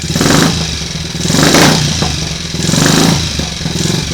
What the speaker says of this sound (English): I'm going to run it and warm it up a little